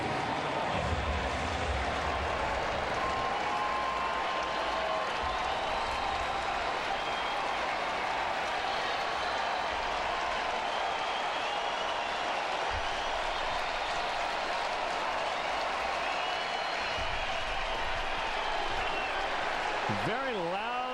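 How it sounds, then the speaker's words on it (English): A loud partisan crowd roars at a night baseball game between the Cubs and Padres at a San Diego ballpark, a sustained wash of cheering and noise that runs the whole time, with a commentator talking over it. "Very loud partisan crowd here tonight. Fans of both teams really making a ton of noise."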